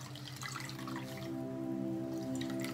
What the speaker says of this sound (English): So really wring it out.